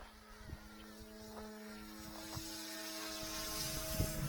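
An Eachine 180 direct-drive, gearless RC 3D helicopter flies fast outdoors in wind, giving a steady high-pitched rotor and motor whine that rises and falls slightly over a breezy background.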